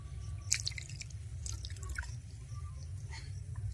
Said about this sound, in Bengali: এবার ঠান্ডা জল দিয়ে দুই থেকে তিনবার ছানাগুলো ভালো করে ধুয়ে নেব